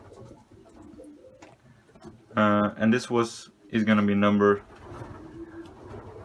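Racing pigeons in a loft coo in two loud, close throaty bursts, each a rolling series of low pulses, while someone talks quietly before and after.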